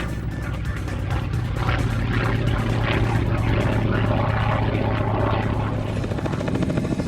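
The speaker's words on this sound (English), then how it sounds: "One Russian aircraft that was at Farnborough was Angie Soper in a Yak-11." A Yak-11 propeller aircraft flying at the Farnborough airshow produces a loud, steady engine drone with a throbbing propeller beat that holds throughout without any break.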